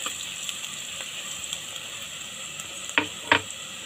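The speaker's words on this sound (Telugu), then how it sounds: "ఈ పసుపు పచ్చివాసన పోయేంత వరకు ఫ్రై చేసుకోవాలి" Onions and turmeric fry in a pan with a soft steady sizzle, broken near the end by two sharp scraping stirs; no voices.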